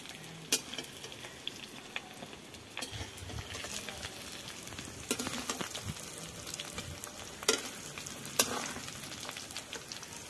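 Paneer and vegetables fry in a hot pan for fried rice, a steady soft sizzle punctuated by sharp clinks and scrapes of stirring, moderately quiet and close.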